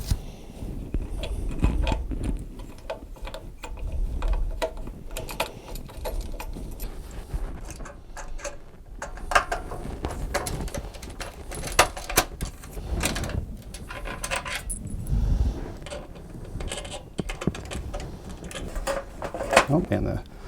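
Screws being removed and side covers pulled off a Seeburg jukebox mechanism, with steady mechanical rattling, clinking and handling of metal parts close by, and a person talking over it.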